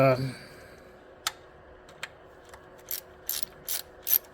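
A ratchet tightens a bolt on the transmission control module of a 2012 Ford Focus, giving a series of short, sharp clicking bursts that grow quicker and louder toward the end, after a brief bit of speech at the start.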